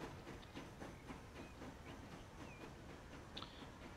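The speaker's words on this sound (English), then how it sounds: "we'll just sit here and watch our train depart" A passenger train in a transport simulation game pulls out of a station with a faint, steady rumble, soft rhythmic clicking and hissing, and no voices.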